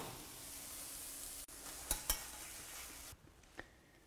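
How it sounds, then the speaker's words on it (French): A spoon stirs béchamel into a ham and mushroom crêpe filling over low heat, soft scraping and faint sizzling close by, with a couple of sharp clinks and a sudden quieter stretch near the end. "Nous mettons maintenant à feu doux et nous allons incorporer la béchamel"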